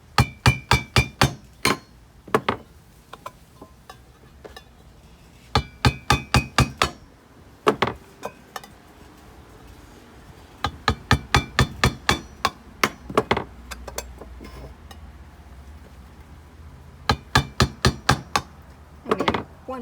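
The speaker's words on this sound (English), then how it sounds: "I'm just have a nail here and I have a hammer." Hammer driving a nail through a tin can for a DIY planter: sharp metallic strikes in quick bursts of five to seven blows, separated by short pauses, loud and close.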